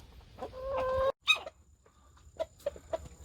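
Korean native chickens cluck and chatter nearby in a farm pen, with one louder squawk and a run of short, evenly spaced clucks, no voices.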